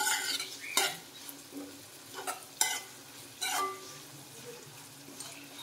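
Shark puttu fries in a pan with a soft sizzle, punctuated by several irregular scrapes and clinks of a spatula stirring against the metal.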